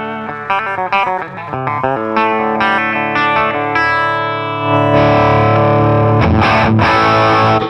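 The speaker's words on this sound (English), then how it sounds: "My favorite clean tone to get is kind of a dirty amp with some pedals on that are going to boost your high end." Electric guitar through a dirty amp with JRockett boost pedals, a run of distorted plucked notes ringing into a sustained chord, then a few gritty strums, played alone without talk.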